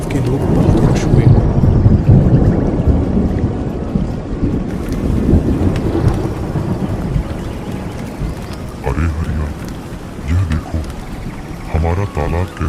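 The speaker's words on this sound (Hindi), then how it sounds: "गांव में जोरदार बारिश शुरू हो गई" A heavy downpour falls over a village in a continuous dense roar, easing slightly toward the end as a few brief, louder sounds break through.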